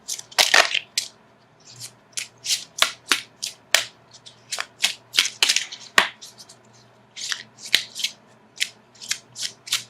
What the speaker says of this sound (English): So let me shuffle for an outcome card.